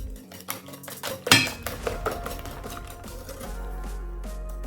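Eggs being whisked in a bowl for a banana cake batter, with busy clinking and scraping of the whisk against the bowl, loudest at one sharp clatter early on, then a steadier clatter over a low background hum.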